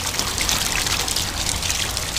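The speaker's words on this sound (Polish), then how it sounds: "Ale leje, zobaczcie. Zobaczcie na rynnę. Strumień wody." Heavy rain pours from a gutter in a steady, broad rush of water, with continuous trickling and splashing that stays loud and even throughout, with no voices.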